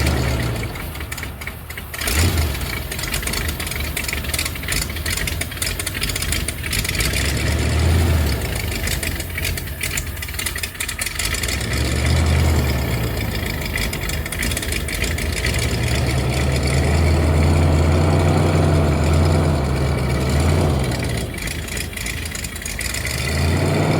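A 1975 Bricklin SV1 engine cranks over on ether, catching briefly in rough bursts between stretches of churning starter noise, loud and close with no talk.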